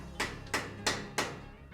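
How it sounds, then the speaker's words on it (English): A hammer strikes a metal clip while a ceiling is being levelled: four sharp, evenly spaced taps in quick succession, close and clear with no voices. "I'm gonna get my hammer, I'm gonna hit that little bit"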